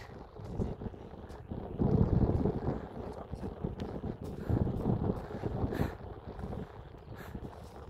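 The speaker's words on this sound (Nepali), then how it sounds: "हावा लाग्न सुरु भयो है" Strong wind on a mountain footpath in Dolpa, Nepal, buffets the microphone in low, rumbling gusts that rise and fall, with brief rustling bursts over the blustery roar.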